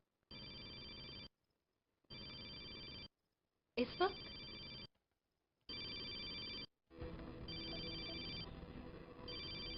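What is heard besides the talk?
telephone ringing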